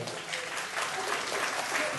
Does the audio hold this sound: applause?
yes